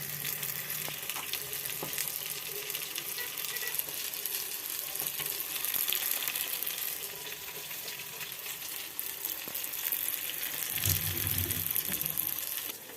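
Fish fries in a pan with a steady, fairly quiet hiss and crackle throughout, punctuated by faint clicks and a brief swell of bubbling sizzle near the end.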